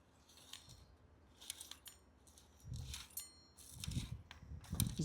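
Corn seeds rattling and clicking as they drop through a turning planter unit, with irregular light ticks and small clatters close by, alongside some low handling thumps toward the end.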